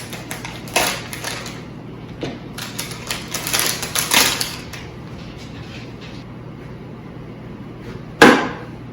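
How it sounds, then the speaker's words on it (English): A knife slices oranges on a cutting board in quick, uneven crunchy chops, bunched in the first half, with one sharp louder knock near the end. "Now we're just going to go ahead and start slicing our oranges."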